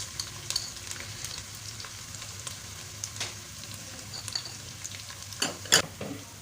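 Onions and turmeric sauté in a pan for sarson ka saag (mustard greens), with a continuous soft sizzle broken by occasional spoon scrapes and clacks, the loudest stirring knocks near the end, with no voices.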